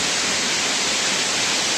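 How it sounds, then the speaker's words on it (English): Noh-Kawang Waterfall in Trangblang village, West Jaintia Hills, swollen after rain, roars as a dense, steady rush of water close by, with no voices over it. "Finally, I reached Noh-Kawang Waterfall."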